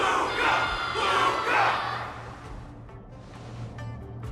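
Crowd cheering in the video game Honkai: Star Rail, a swelling chorus of many voices shouting and whooping that rises, peaks, then fades into a quieter murmur over a low hum.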